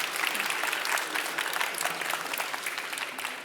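An audience at a life science pitch competition applauds in a loud, continuous wash of many clapping hands, steady and close throughout, with no voices standing out.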